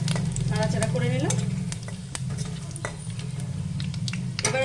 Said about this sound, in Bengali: ফোড়নটা একটু ভালো করে নাড়াচাড়া করে নিলাম।